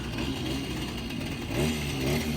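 A moped engine revs steadily in freezing weather with a buzzing, droning tone, swelling louder near the end, close by and without talk.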